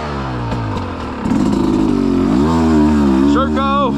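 A KTM 300 XC dirt bike rides past on wet, muddy trails, its engine revving and shifting pitch close by, partly under excited shouting from onlookers.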